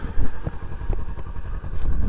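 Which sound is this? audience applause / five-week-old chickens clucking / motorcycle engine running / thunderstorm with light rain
motorcycle engine running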